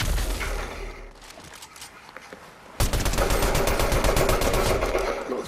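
Rapid automatic gunfire rattles in a Fortnite match, with dense bursts of shots that turn louder and more continuous midway, close and harsh.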